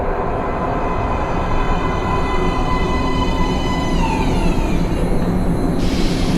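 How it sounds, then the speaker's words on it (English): A metro train in the Metro: Last Light video game roars loudly into an underground platform, a dense continuous rumble with tonal whine that slides and shifts near the end. "Please step away from the edge of the platform. Train coming in."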